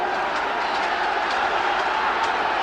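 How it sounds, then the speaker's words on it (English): A large football crowd at a 1982 West Ham United versus Swansea City match roars steadily behind West Ham, a dense, sustained wash of cheering that fills the whole stretch without a break. "the crowd are getting behind the West Ham side to make one last big effort"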